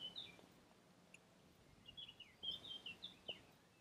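Birds chirp outdoors in a quiet area near the Italian town of Atri, a few faint, scattered high tweets with short gaps.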